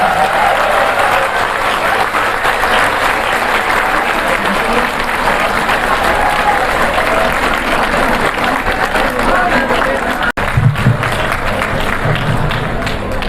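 A standing audience at a school Teacher's Day event applauds to welcome a police DIG, loud, sustained clapping and crowd noise running throughout, with a brief dropout near the end before the clapping resumes.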